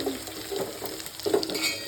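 Spices sputter and sizzle in hot oil in a pan for a dal tempering, a short soft crackle with a few stirring scrapes.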